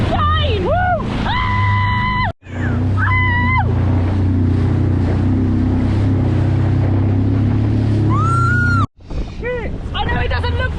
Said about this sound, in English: these waves are absolutely wild right now